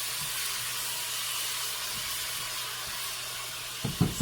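Pasta water at a rolling boil in a home kitchen pot gives a steady, even steam hiss with a soft bubbling rumble underneath, ending in a few brief clunks near the end.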